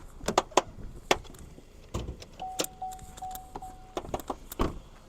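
A 2018 Buick Envision door squeaks with a drawn-out thin creak, surrounded by clicks, clunks and small mechanical knocks, close by and fairly quiet.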